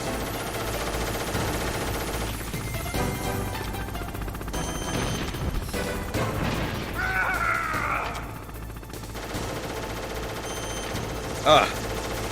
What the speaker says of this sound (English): That machine gun can rip you to shreds in seconds.